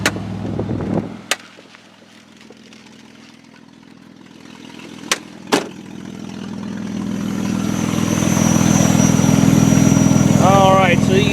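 A 2003 Saturn Vue AWD with a 3.0 liter V6 idles steadily, the engine hum growing louder toward the end, with a few sharp clicks and knocks early on and no talking.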